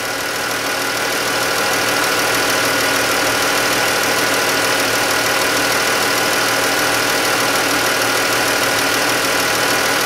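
A loud, steady Pentastar engine idle fills the recording, with a busy, rattling valvetrain clatter from worn rocker and lifter parts running continuously throughout; no voices.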